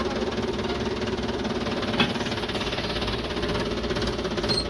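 A Mahindra 575 tractor engine runs steadily close by at a farm during the wheat harvest, giving a continuous throbbing, knocking drone that holds an even level throughout.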